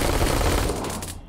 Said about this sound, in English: It has a 65 round magazine and probably the fastest fire rate